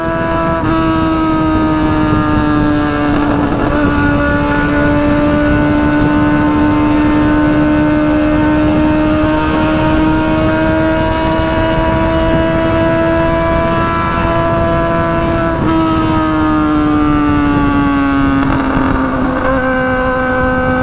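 A Honda Hornet with a straight-pipe 4-into-1 exhaust runs along a highway, its four-cylinder engine holding a loud, steady, harmonic drone at high revs with a few upshifts, under constant wind rush.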